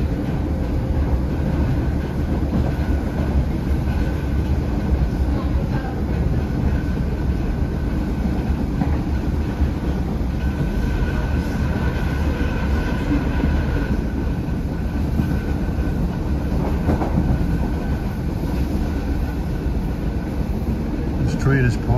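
An Irish Rail Class 8100 electric commuter train rumbles steadily along the track between Greystones and Dublin for the whole stretch, a continuous low roar with faint rhythmic clatter and no clear voices.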